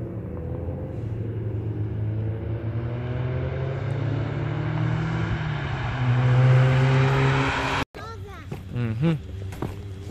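A Mazda RX-8 race car at Summit Point Raceway runs with a loud, steady engine drone that rises slightly before cutting off abruptly, followed by brief nearby voices.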